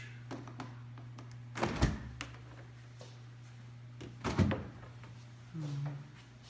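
A kitchen refrigerator with a bottom freezer in a furnished suite gives two soft thunks a few seconds apart as its door opens and closes. A low steady hum runs underneath.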